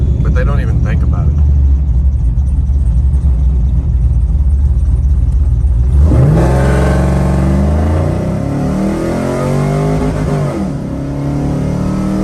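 A 500hp Pontiac WS6 launches hard from a dig on Nitto tires, a deep roaring engine surging loudly up through the revs and then easing into a lower rumble, with a voice talking over it.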